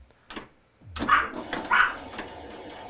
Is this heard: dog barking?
yes